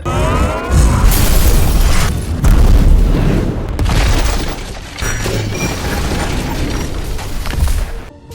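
Loud explosive booms roll into a continuous roaring rumble, with crackling debris-like noise sustained throughout.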